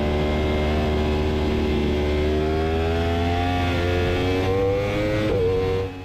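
A Yamaha R1 superbike engine at Mugello drones loud and continuous, its pitch climbing steadily under throttle with a rough, buzzing tone, followed by a quick blip near the end.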